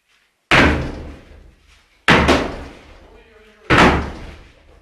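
Three heavy kicks strike a stuck door in an attempt to break it open, each a loud booming slam with a rattling decay, spaced about a second and a half apart, with faint voices between.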